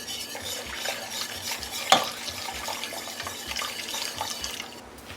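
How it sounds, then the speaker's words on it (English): Whole milk poured a little at a time into a warm bechamel sauce for oxtail lasagna, a steady close liquid trickle with stirring and a single sharp clink near the middle, no talking. "whole milk, about 2 cups, pour a little bit in at a time"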